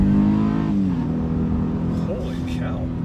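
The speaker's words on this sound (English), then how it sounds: "that sounds like one of their F1 race cars there" A 2019 Honda Pilot SUV engine revs hard, its tone climbing and shifting as the vehicle accelerates, with faint voices underneath.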